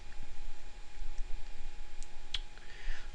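A few sparse, faint computer mouse clicks sound over a soft background hiss, spaced irregularly, with no talking.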